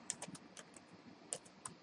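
Rapid, quiet keystrokes clatter on a computer keyboard, irregular taps in short bursts with no voices.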